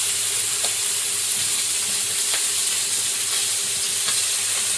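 Oil sizzling loudly and steadily as dry chilies, panch phoron and tomato temper dal, a dense hissing fry with faint occasional stirring taps, close up and without talk.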